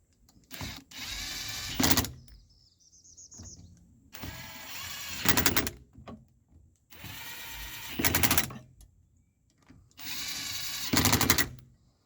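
Power drill snugging up screws in four separate runs, each a whirring spin lasting a second or two and rising as the screw seats, with quiet pauses between and no talk.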